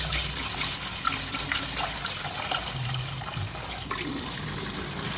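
Water pours and splashes steadily onto rice in a container for soaking, a continuous close rushing sound with small gurgles.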